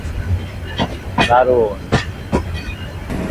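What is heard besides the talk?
train travelling, Burimari Express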